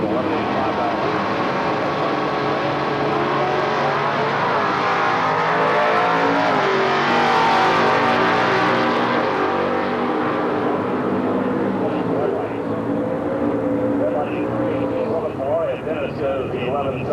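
A 1979 Plymouth Volare super stock drag car races down a quarter-mile strip, its loud engine roar rising and falling under continuous announcer commentary.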